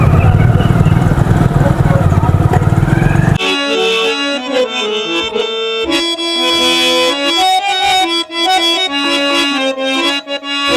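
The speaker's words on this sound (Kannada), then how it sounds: "ಬೈಕ್ ತೊಗೊಂಡು ಬಿಡ್ರಲ್ಲ" A motorcycle rides off with a loud, rough engine roar for a few seconds before music takes over and the engine noise drops away.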